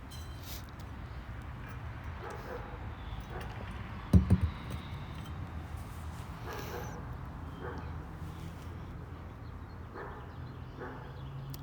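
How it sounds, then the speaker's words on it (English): A dog barks in the distance, a short burst of a few quick yips around the middle, faint behind a quiet indoor room. "that dog barking is distracting"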